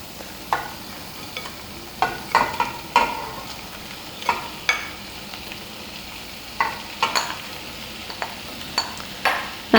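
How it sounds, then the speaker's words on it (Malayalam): Pieces of previously fried chicken tossed into a pan with softened onions for chicken kondattam, soft sizzling under repeated scraping stirs and light clinks of a utensil against the pan, with no talk. "ഇനി ഇതിലേക്ക് നമ്മൾ വറുത്ത് വെച്ചിരിക്കുന്ന ചിക്കൻ പീസസ് ചേർത്ത് കൊടുക്കാം"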